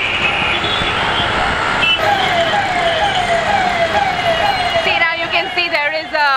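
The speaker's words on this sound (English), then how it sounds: "Ambulance stuck in this kind of traffic" Wailing ambulance siren sweeping up and down, loud and continuous, trapped in congested traffic at the Kala Nagar junction, with dense traffic noise underneath and a second siren tone joining near the end.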